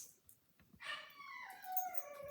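Dogs in another room of a home howl and whine while a puppy is trained, thin drawn-out cries rising and falling at a distance, fairly faint.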